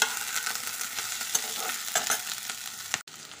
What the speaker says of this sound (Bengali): এখন দিচ্ছি শিম, একই সঙ্গে আলুগুলোও দিয়ে দেবো। তো ভালো করে নেড়ে দেবো।